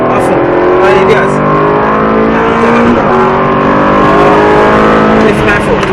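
A car engine drones loud and close at full throttle during a driving lesson, its pitch climbing only slowly as it pulls hard.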